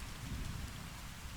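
Steady rain falls in a dense, even hiss with a low rumble beneath it, soft and continuous throughout this brief moment with no voices.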